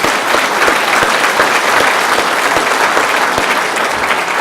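Dense, steady audience applause for Senator Dick Durbin at a talk on Ukraine, many hands clapping close and loud for the whole span with no voices over it.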